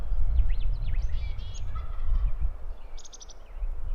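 A wild Merriam's turkey gobbler gobbles at a distance, a quick rattling burst over a low outdoor rumble, followed by a few short, faint calls.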